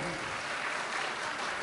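Audience applause at a Tamil comedy pattimandram debate: a continuous, fairly soft and even patter of many hands lasting under two seconds.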